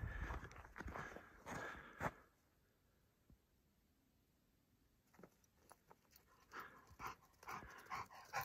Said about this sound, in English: Dead quiet except for my dog.